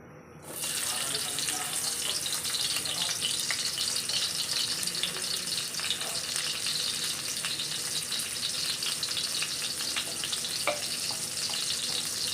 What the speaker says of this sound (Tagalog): Una kong igigisa ay onion.